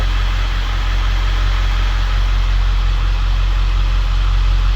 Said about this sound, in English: But truck sounds a lot better.